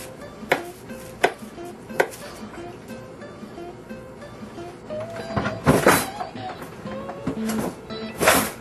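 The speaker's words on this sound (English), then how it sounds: "I'm going to go ahead and cut these into little chunks." A kitchen knife chopping food into chunks on a cutting board at home, with sharp, irregular chops close by, spaced at first and then coming quicker and louder, mixed with some clatter.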